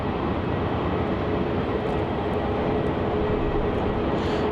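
A Boeing 747 cargo jet departs Melbourne Airport, its engines producing a loud, steady broadband roar that holds constant and dominates throughout, no voices.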